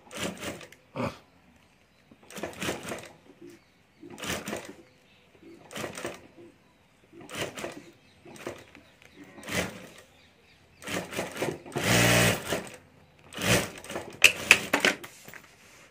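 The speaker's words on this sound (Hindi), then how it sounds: "यहाँ ऊपर हमें राउंड में सिलाई कर देनी है" A domestic sewing machine stitches a ladies' wallet in short, separate bursts of clattering rhythm, loud and close, with pauses between runs and a denser burst near the end.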